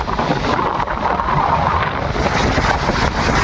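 Huge monsoon sea waves pound the shore at Harihareshwar, a loud, continuous broadband roar of surf mixed with wind buffeting the microphone, with no voices.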